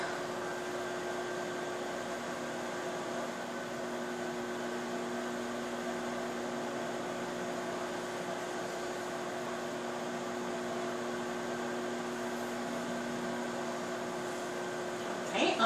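A steady microwave oven hum drones on without change while cooking pizza bubble bread, an even mechanical whir with a faint electrical buzz, ending in a small click.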